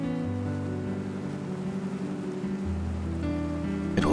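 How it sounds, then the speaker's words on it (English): Engines of the Cisne Branco riverboat on the Amazon drone steadily and close by, a continuous low hum with layered tonal lines, alone with no voices. "All would be silent, but for the incessant noise of the engines."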